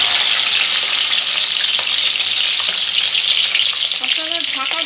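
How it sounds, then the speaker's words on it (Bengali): Tangra fish fry in hot mustard oil over a lowered gas flame, a loud, steady, close crackling sizzle throughout with a few faint clinks near the end. "মাছগুলো এবার এক এক করে আমি ভেজে নেব।"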